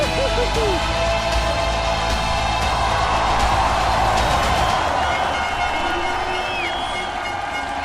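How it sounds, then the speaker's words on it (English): A crowd at a BMX freestyle park event in Edmonton roars and cheers loudly and continuously, a dense wall of voices with whistles and shouts that eases slightly toward the end. "the crowd going nuts here in Edmonton"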